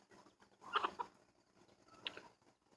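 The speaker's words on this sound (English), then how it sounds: "the roosters will pretend like they found something really good to eat and try to call a hen over" A rooster clucks in short bursts near a hen and her chicks, two close clusters of low, throaty calls with a quiet gap between.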